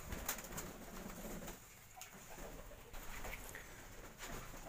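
Domestic pigeons kept at home alongside chickens, dogs and cats coo in repeated soft, low bursts against a steady background hum, with no one speaking.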